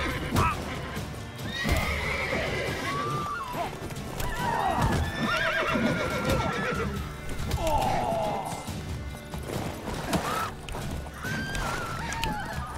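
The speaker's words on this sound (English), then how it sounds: "Why are these horses helping the fucking peasants?" Horses in The Witcher 3 video game, repeated loud neighs and whinnies over clip-clopping hooves and occasional crashing impacts, with a voice talking briefly.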